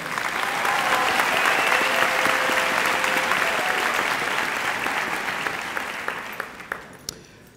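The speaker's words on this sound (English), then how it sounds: "Please give them a round of applause." A high school graduation crowd in a large hall claps steadily for honor society students. The applause swells and then thins into a few scattered final claps.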